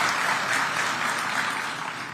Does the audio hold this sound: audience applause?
yes